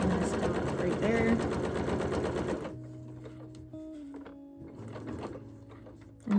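A sewing machine stitches a quilted bowl cover in a rapid, steady whir for about two and a half seconds, then stops, followed by quiet handling noises and someone speaking.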